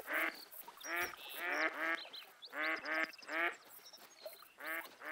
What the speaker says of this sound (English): These are ducks.